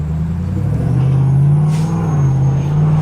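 A Hellcat-swapped Jeep Rubicon idles and pulls under light throttle, its deep steady engine drone holding close and loud throughout with a faint rise in pitch.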